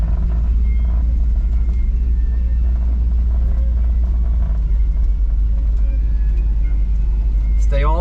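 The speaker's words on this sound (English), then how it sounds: "Here we go on the beach with the four-wheel drive 59 Bel Air." A four-wheel-drive 1959 Chevy Bel Air rolls along a beach, its steady low engine rumble and road noise filling the cabin continuously, with a brief higher squeak near the end.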